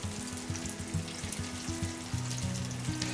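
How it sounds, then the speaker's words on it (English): Potatoes fry in hot oil in a pan with a steady bubbling sizzle, close and moderately loud, while faint background voices or tones sit underneath. "I'm going to dip a potato in, make sure we get a little bubbling."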